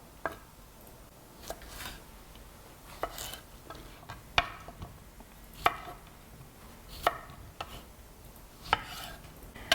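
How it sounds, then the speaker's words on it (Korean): A knife slices through a small cucumber on a cutting board in a series of sharp, evenly spaced taps, each a crisp chop, heard up close in a quiet kitchen. "그래서 오이 같은 게 있잖아요. 그러면 이렇게 꺼내놓고 잘라서"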